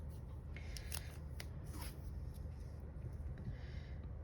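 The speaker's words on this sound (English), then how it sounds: "it's got that line on it, so I'm gonna rip it one more time" Paper sheet torn by hand while setting up an Erin Condren 7x9 teacher planner, a few short crisp ripping bursts close up over a steady low background hum.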